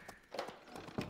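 A horse in the Barbie Horse Adventure: Mystery Ride video game gives a few soft hoof clip-clops and a faint whinny, brief and quiet, without speech.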